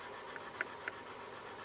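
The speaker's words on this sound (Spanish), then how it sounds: "nos va a permitir lijar cosas curvas" Sandpaper bent to an arc rubs back and forth over curved parts of a scale AH-64 Apache model, giving a soft steady rasp with a few faint ticking strokes, close and alone.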